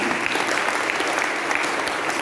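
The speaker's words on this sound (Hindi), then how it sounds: "उन सब के लिए जोरदार तालियां।" An audience at a spiritual gathering breaks into loud, sustained applause, dense clapping filling the whole stretch without pause.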